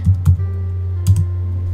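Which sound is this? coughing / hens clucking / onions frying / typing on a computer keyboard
typing on a computer keyboard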